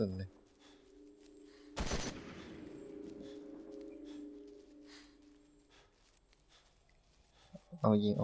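A single loud gunshot burst cracks out in the zombie shooter game Into The Dead 2, followed by a lingering tail over steady game ambience, with another sharp shot near the end.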